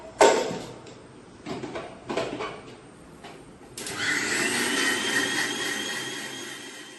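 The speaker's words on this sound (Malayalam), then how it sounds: "ഇതെല്ലാം കൂടി ഇട്ടിട്ട് നന്നായിട്ടൊന്ന് അരയ്ക്കാൻ പോകുന്നേ" An electric mixer grinder whirs up to speed, grinding spices with cardamom for an egg curry in a home kitchen, preceded by a few clatters and then a steady, loud high-pitched motor drone.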